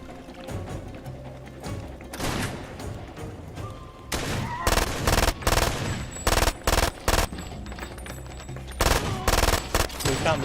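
Gunfire in Far Cry 2 starts with scattered distant shots, then sharp, loud automatic bursts crack in repeated volleys close by, with a faint voice underneath.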